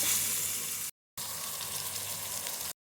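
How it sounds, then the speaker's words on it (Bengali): Prawns go into a hot spice paste for a prawn bhuna, making a loud, dense sizzle in two bursts separated by a brief silent gap. "এখন আমি মাছগুলো দিয়ে দেবো"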